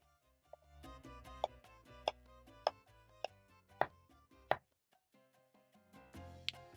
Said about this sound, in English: I'm going to finish up chopping the rest of the ingredients.